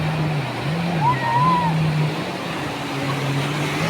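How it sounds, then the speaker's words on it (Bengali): Sea waves rolling and breaking on a shore in a steady, continuous wash, with occasional voices nearby. "ভালোই লাগছে ঢেউগুলো"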